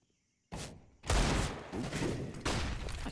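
Gunshots during a professional Counter-Strike match, a short sharp burst followed by heavier sustained firing with another onset near the end, loud and close against near silence at the start.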